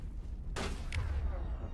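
An Overload power explosion in the Mass Effect video game goes off as a single sharp blast, followed by a second short burst and a low rumbling tail over steady background hum.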